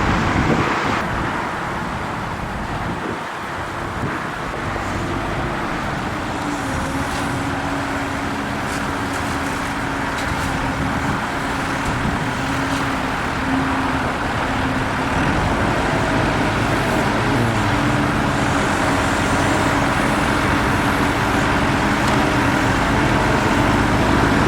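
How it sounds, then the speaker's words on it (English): A Ford F650 crew cab dump truck drives along pulling a trailer, its engine and road noise a steady loud drone from inside the cab, with faint wind. "We're off for another adventure in this F650 crew cab dump truck. We're actually pulling a trailer with it today."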